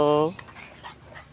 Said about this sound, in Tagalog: Ito po may mga aso ni ano, Rachel.